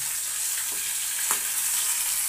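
Parshe fish frying in a pan sizzles in a loud, steady crackling hiss, with a couple of faint spatter pops over about two seconds and no voices.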